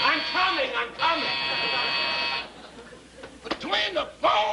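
A door buzzer sounds in a 1950s television comedy show, a steady electric drone lasting over a second, broken off, then repeated, with people talking before and after.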